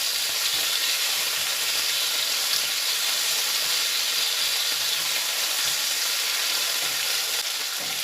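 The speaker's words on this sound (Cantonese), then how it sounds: "跟住加返1湯匙廚用酒，辟下啲蝦嘅腥味同增加鑊氣，再兜炒到緊熟" Shrimp stir-frying in a wok after a splash of cooking wine, a loud, dense, unbroken sizzle and hiss that fills the whole clip, close up, with faint stirring beneath and no voices.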